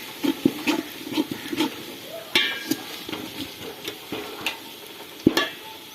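Whole spices frying with golden onions in a pan, with a soft sizzle under repeated spatula stirs and sharp clinks against the pan, close and moderately loud.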